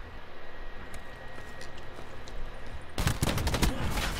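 Gunfire in Call of Duty Black Ops 4 breaks out as a loud, sharp burst of rapid shots near the end, after a stretch of steady low game ambience.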